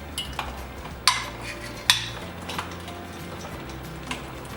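Glass jam jars and their lids dropped into a pot of boiling water, giving two sharp clinks of glass and metal followed by softer knocks and a faint bubbling rumble, with no talk.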